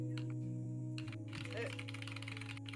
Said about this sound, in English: I can hear the rapid typing.